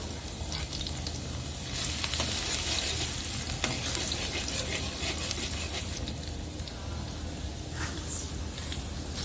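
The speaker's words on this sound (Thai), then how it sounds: "แล้วเราก็เริ่มเอากระเทียมลงไป คั่วให้มันหอมๆหน่อยหนึ่งก่อน" Garlic stir-fries in a hot pan with spices and pork, giving a steady, dense sizzle that holds at an even level throughout, with no voices.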